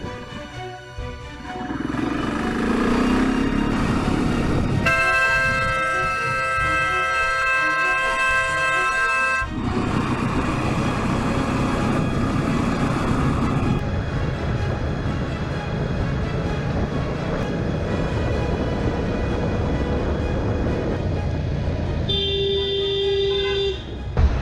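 A loud car horn at an intersection, held as a long steady blare for several seconds after engine and road noise, echoing through the neighborhood, then a shorter second honk near the end.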